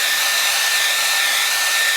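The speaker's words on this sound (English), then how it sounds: "I'll just put the dryer on for a minute," A hair dryer blows loud, close and steady as it dries a watercolour painting of a snow scene, a constant hiss with a faint whine and no talk over it.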